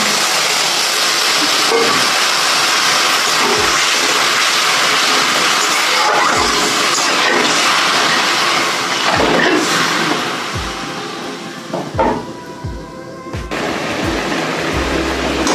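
Water is poured into a hot pan of fish curry cooked with kasundi and papaya, where oil has separated. A loud, rushing hiss and sizzle rises and falls, with a few sharp bursts toward the end.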